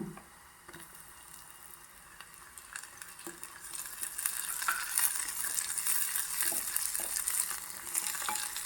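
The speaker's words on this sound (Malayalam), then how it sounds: "2 പച്ചമുളക് കീറിയത് കൂടി ഇതിലേക്ക് ഇട്ടൊന്ന് വഴറ്റിയെടുക്കാം" Sliced onions and slit green chillies sautéing in a pan for a netholi fish curry, giving a steady close sizzle that grows louder partway through, broken by occasional faint scrapes of stirring, with no talking.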